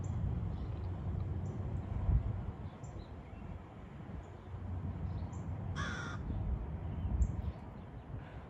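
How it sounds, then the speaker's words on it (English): A crow caws once, distinct and fairly close, during a walk outdoors, standing out against a steady low rumble of background noise. "I heard a crow say"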